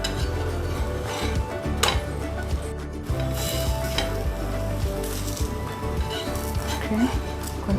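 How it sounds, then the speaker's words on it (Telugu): Sweet bacchalu (polelu) flatbread frying in ghee on a pan over a low flame, a steady close sizzle running throughout with occasional pan and utensil clinks. "నెయ్యి రాసుకొని కొంచెం చిన్న మంట మీద ఇలా కాల్చుకోవాలండి."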